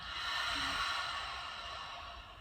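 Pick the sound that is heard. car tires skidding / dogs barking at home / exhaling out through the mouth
exhaling out through the mouth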